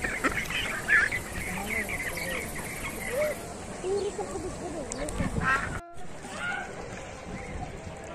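Ducks quacking and honking in Aspire Park, Doha, Qatar, with repeated calls scattered over busy outdoor background noise and someone speaking intermittently nearby.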